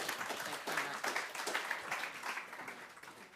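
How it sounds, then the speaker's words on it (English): Applause from a summit audience for a presenter, a fairly dense spread of clapping with some uneven swells and individual claps poking through, moderately loud throughout. "Let's give her a big round of applause, everybody."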